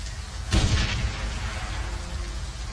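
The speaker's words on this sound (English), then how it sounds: "Explosion is deafening." In the video game Shadowrun: Hong Kong, a single deep explosion destroys a bridge and barricade, a sudden loud boom that rolls into a fading rumble over a low continuous background.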